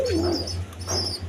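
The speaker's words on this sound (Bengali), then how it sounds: "দর্শকবৃন্দ দেখেন এইখানে এক পেয়ার কবুতর আছে" Pair of Mosaldom pigeons with two squabs, kept on a farm, cooing close by in short throaty bursts over a steady low hum, no talk.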